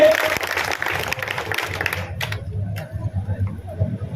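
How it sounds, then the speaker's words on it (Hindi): A crowd at an outdoor political campaign event applauds a young girl, a burst of clapping that fades out after about two seconds, leaving low background hum and occasional small knocks. "बहुत बहुत जोरदार तालियां इस बच्ची के लिए।"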